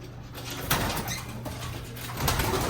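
Pigeons cooing in a cleaned-out home loft, a low steady murmur of overlapping coos that swells near the end, with faint rustling and movement in the background.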